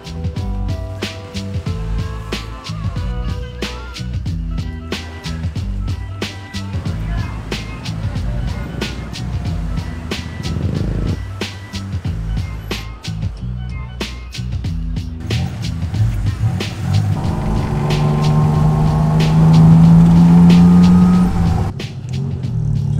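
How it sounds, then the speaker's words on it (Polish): A tuk-tuk rides through busy Bangkok traffic, its engine buzzing and rising under a rush of street noise and passing vehicles, with a strong revving whine building near the end; people talk over it throughout. "Jazda tuk-tukiem jest jednak w Bangkoku najatrakcyjniejsza turystycznie."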